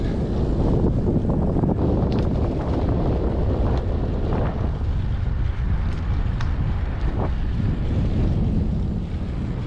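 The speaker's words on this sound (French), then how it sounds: "Là je suis entre deux averses et un petit coup de vent du coup." Strong, steady wind buffets the microphone while cycling along a road through reed beds between rain showers, a continuous loud roar with no talking.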